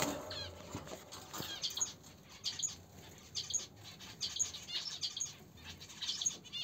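Pair of budgerigars give faint, soft chirps and rustling wing flutters, with small repeated high peeps spaced through a quiet indoor setting.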